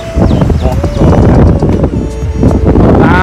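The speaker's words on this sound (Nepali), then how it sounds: "कर्णाली पुल मस्तको हावा लागिरहेको" Strong wind gusts across the Karnali bridge buffet the microphone in a steady low roar, with busy crowd voices and passing activity mixed underneath.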